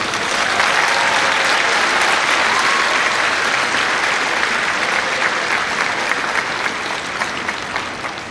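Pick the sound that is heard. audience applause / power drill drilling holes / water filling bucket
audience applause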